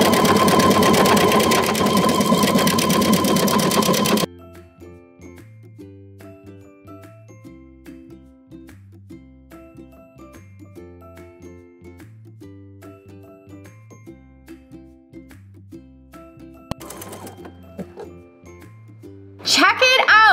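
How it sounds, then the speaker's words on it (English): Sewing machine stitching an embroidered logo onto ribbon, a steady rhythmic whir with faint clinks, heard alone after a burst of louder noise at the start. "So let's give it a go and embroider this ribbon."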